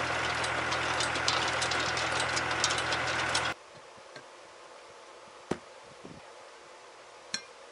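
A loud tractor engine drones steadily with a knocking rhythm, then cuts off abruptly, leaving quiet outdoor ambience with a few sharp clicks.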